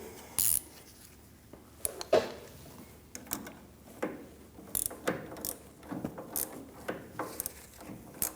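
An inner tie rod tool being loosened on an Audi Q5 front suspension: repeated metallic ratchet clicks and clanks in an irregular rhythm, close and fairly quiet.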